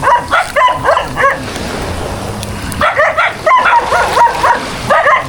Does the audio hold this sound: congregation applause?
no